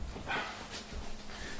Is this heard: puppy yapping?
yes